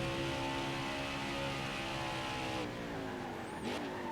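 A NASCAR race car in the NASCAR Heat 5 video game on the Indianapolis road course roars steadily, then drops in pitch as it brakes hard into a corner, with a brief tire squeal near the end.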